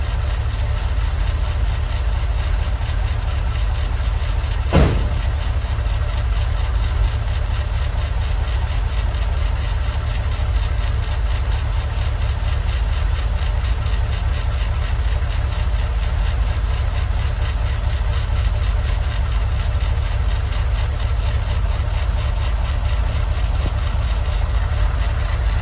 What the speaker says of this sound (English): So I'll let it idle a little bit.